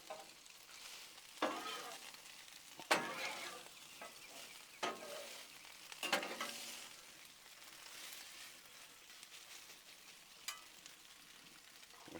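Sausage and tortellini being stirred together on a hot griddle, a quiet sizzle broken by several scraping, clattering spatula strokes at irregular intervals.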